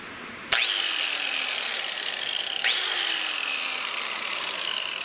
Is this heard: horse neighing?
no